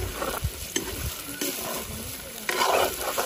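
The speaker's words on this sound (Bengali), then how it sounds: "এতিয়া ধুনীয়াকৈ মিক্স কৰি দিম" Potatoes being stirred into duck curry in a pan, with a soft scraping and sizzling that swells into a louder burst of stirring near the end.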